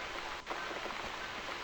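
Steady rain falls throughout in The Cat Lady game, a constant hiss of drops on a surface with a brief dip partway through.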